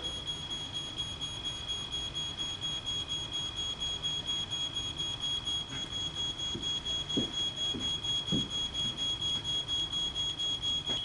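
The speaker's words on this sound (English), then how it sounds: "The smoke alarm on the 2nd floor now activates." Smoke alarm on the second floor of a house going off during a fire test, a steady high-pitched electronic tone running continuously throughout over a low background rumble.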